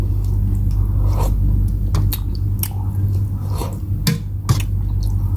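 Close, loud bites and chewing of crunchy, browned toasted food during a ramen meal, with sharp crunch bursts scattered over a steady low rumble.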